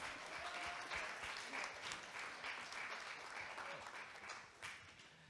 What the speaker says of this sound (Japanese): そして何よりもイエス様にもう一度大きな拍手をしましょう。